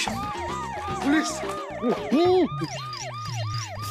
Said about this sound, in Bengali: ওটা অ্যাম্বুলেন্সের শব্দ।